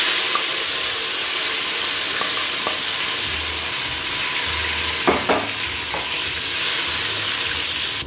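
Onions sizzle in hot oil with a steady, loud crackling hiss, occasional clinks and stirring scrapes, close up and without talk.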